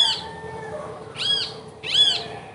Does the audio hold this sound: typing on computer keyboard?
no